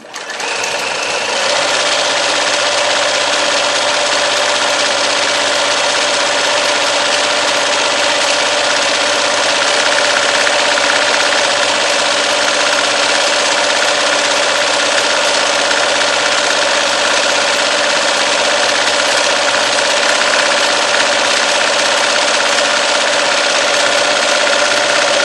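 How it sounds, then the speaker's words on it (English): A sewing machine runs continuously, stitching fabric for a market bag, with a steady, loud mechanical hum and needle rattle that holds evenly from start to finish. "I've got my machine set to needle down when I stop, so it'll hold my fabric in place."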